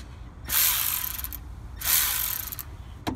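A Milwaukee power impact tool tries to break loose a front seatbelt retractor bolt on a 2003-2007 Honda Accord, giving two loud rattling bursts of about a second each with a short pause between and a faint click at the end.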